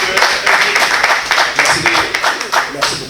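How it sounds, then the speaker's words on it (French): Enthusiastic applause and clapping from an audience in a Congolese music interview setting, loud and continuous with rhythmic bursts throughout. "Alors, on applaudit."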